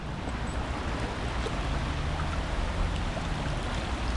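Floodwater rushes in a swollen brook in a flooded English town, a steady broadband wash of flowing water, continuous and even with no voices.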